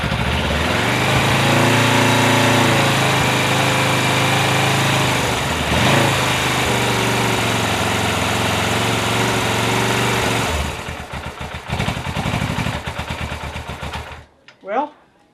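A Suzuki GS500 motorcycle engine runs loud and steady at a close idle with a little choke, then the revs fall away into an uneven, sputtering rattle before it cuts out near the end.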